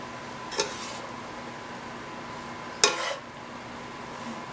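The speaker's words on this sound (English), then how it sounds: "I'm going to add the egg in it" An egg drops into veggie rice in a hot pan, giving two short sizzling bursts over a steady low hiss with no talking.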